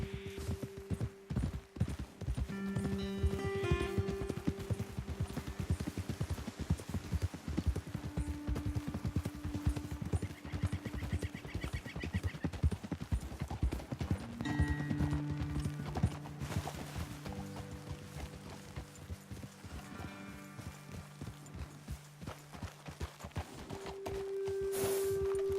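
Horse hooves clip-clopping in the video game Red Dead Redemption 2, steady rhythmic hoofbeats of several riders close by, with occasional snorts and whinnies over a low ambient music bed.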